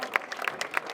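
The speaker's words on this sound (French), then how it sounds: "un tonnerre d'applaudissements" A crowd at a race finish gives a brief burst of clapping for a runner, a few separate hand claps heard close within a second.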